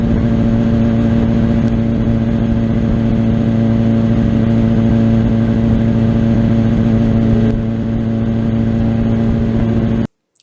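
A superbike's engine drones steadily and loudly close by as the rider steers with only the handlebars and feet off the pegs, holding an even tone before cutting off abruptly.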